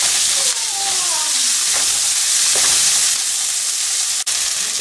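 Chopped tomato pieces with salt fry in a pan while they are stirred, making a loud, steady hiss and sizzle close up, with faint scrapes of the spoon under it.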